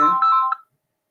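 A loud electronic phone ringtone chirps a short melodic phrase for an incoming call, then cuts off into silence.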